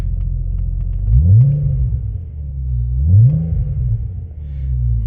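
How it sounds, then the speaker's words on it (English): A Porsche Boxster 3.2S engine idles loudly, then revs up sharply twice, each quick rise in pitch falling back to a deep, steady rumble. "I'll give it a very quick rev."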